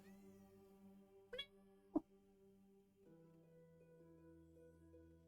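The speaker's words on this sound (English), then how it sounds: "Can you meow louder so I don't sound like I'm meowing to myself" Jessie, a pet cat, gives a single short meow close to the mic, over a steady hum of sustained background tones.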